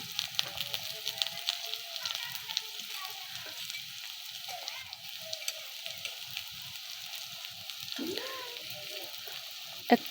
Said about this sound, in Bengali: আমি কত অল্প পরিমাণে তেলে রান্না করছি মানে পেঁয়াজটা ভাজতেছি